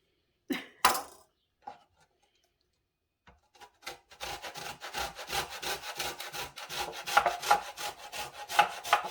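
A lemon is rubbed against a grater in quick, rhythmic rasping strokes, loud and close. A few scattered scrapes and knocks come first, then the grating settles into a sustained run.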